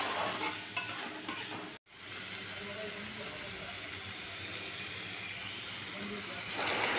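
Fried potatoes and spice paste sautéing in a pan for an egg curry, a steady close sizzle with stirring scrapes, a brief dropout near the start, then continuous frying that swells slightly at the end.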